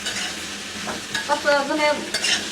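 Tomatoes frying in hot oil in a home kitchen, a steady bright sizzle with spitting crackles and a few scraping stirs near the close, loud and alone with no talk.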